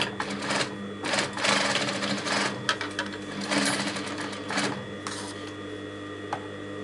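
A sewing machine runs in steady bursts of rapid mechanical stitching as it sews a diagonal seam from corner to corner across joined fabric strips for corded piping, loud and close, with brief pauses between runs.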